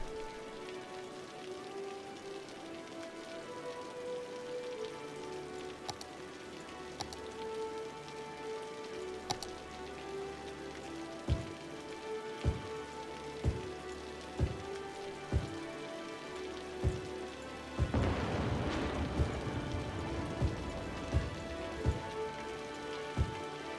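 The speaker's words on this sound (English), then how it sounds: "that rain is really chugging my computer down right now" Steady rain pattering across the ground in the city-building game Cities: Skylines, a dense continuous hiss with scattered low thumps, and a burst of heavier downpour near the end, with no talk.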